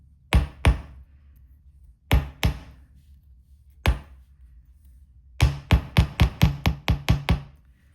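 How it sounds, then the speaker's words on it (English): Hammer tapping wire bracelet hoops to work-harden them, sharp metallic taps in small groups: two, two, one, then a quick run of about eight evenly spaced strikes, close and clear with no talk. "just give the hoops a little tap just to work harden them"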